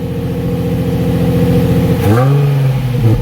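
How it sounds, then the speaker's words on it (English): A close Nissan 350Z with a custom single-exit exhaust idles with a pulsing throb, then revs up sharply, its pitch rising and holding at a higher drone. "Not when you rev it though. Rev it a little bit."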